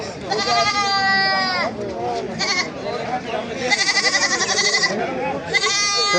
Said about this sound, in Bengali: ওই যে একটা আছে খাসি